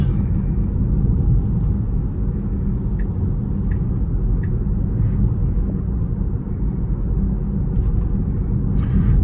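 A Tesla electric car drives along a road, a steady low rumble of road and cabin noise that holds constant throughout with no talking.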